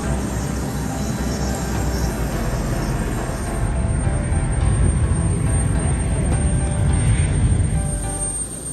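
Embraer E190 jet on an airport apron, a loud steady broadband engine roar and rumble that swells slightly partway through, heard alone without talk.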